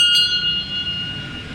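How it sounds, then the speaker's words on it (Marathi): A single bright strike of a temple bell at a Hanuman temple, ringing clearly close by and then decaying with a sustained metallic hum. "चल वाजव घंटी"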